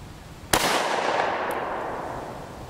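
One sharp, loud gunshot fires an Elite Ammunition Devastator round at a hardened steel target, followed by a long decaying echo and a fainter impact crack about a second later.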